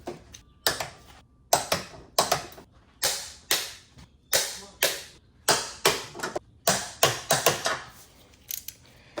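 Torque wrench ratcheting on VW/Audi motor mount bolts: a steady run of sharp, close metallic clicks in evenly spaced bursts, loud and dry, continuing for several seconds with no voices.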